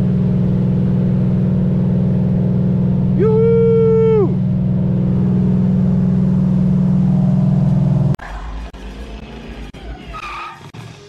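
A car engine drones loud and steady with a rising whine and a tire squeal in the middle, then cuts abruptly to quieter rumbling and rustle as someone cheers.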